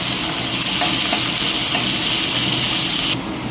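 Vegetables sizzle and hiss in a hot pan for egg chowmein, a loud, steady frying crackle with faint stirring that drops off abruptly near the end.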